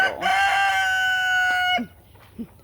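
A young rooster on a farm lets out a single long, loud, close crow that holds steady before breaking off, followed by a short soft cluck.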